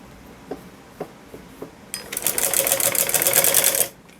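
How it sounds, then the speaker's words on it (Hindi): Sewing machine stitching a salwar seam: a few soft separate taps, then a loud close whirring burst of rapid stitching that runs for about two seconds and stops abruptly. "यहाँ इनके ऊपर हम सिलाई लगाएंगे इस तरह से दोनों तरफ"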